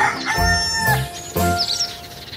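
A rooster crows loudly and close by, two drawn-out cock-a-doodle-doo calls with a short gap between them, with faint bird chirps near the end and no talking.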